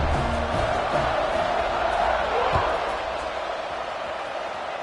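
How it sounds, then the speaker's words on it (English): Stadium crowd in a college football video game roars in a steady, dense wash of cheering just after a score and extra point, loud at first then easing slightly, with faint commentary-like voices underneath. "this crowd is buzzing after that last score"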